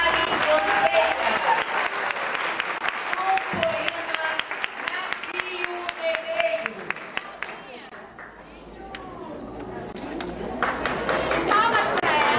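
An audience at a poetry competition final applauds steadily for a finalist, many hands clapping close and loud while a person speaks over it. The clapping eases for a moment, then builds again.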